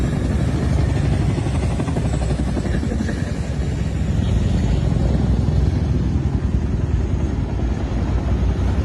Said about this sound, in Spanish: Se escuchan helicópteros